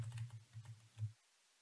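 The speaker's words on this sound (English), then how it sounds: "I'm doing this with my keys on my keyboard" Computer keyboard keys tapped while working in a spreadsheet, a quick cluster of soft clicks ending in a few separate presses, then silence.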